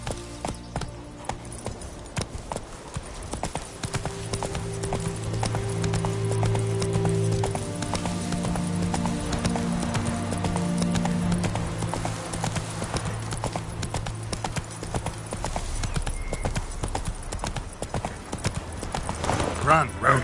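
Hoofbeats of Roach, Geralt's horse in The Witcher 3, clip-clopping steadily at a run under a game music score, with an occasional whinny and a voice urging the horse on.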